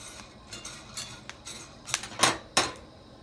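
Coffee beans crackling as they roast for the first time, a scattered run of sharp pops and ticks, sparse at first and then growing louder and denser, close by with no voices.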